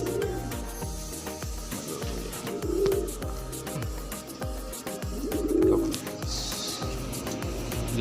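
Pigeons coo repeatedly in soft, low, rhythmic calls close by, with a faint rubbing and scratching underneath and no talk.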